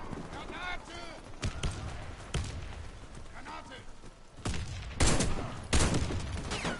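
Rapid bursts of gunfire from the online shooter Warface, sniper rifle in use, crack out in clustered volleys and sharp single shots, loud and close, with someone talking over and between them.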